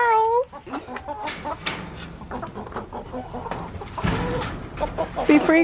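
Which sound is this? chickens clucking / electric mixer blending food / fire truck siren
chickens clucking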